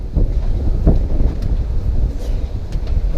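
Strong outdoor wind buffets the microphone while work is done on a Ka24de engine in an S14, giving a heavy, low, rumbling roar with gusty swells and no speech.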